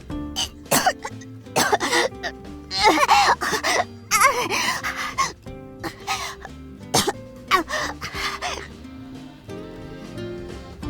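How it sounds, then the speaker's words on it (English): A character in the visual novel game Nie No Hakoniwa has a coughing fit: repeated harsh coughs and throat-clearing bursts in uneven clusters, set over soft sustained background music. "Nozomi had a coughing fit, bringing tears to her eyes"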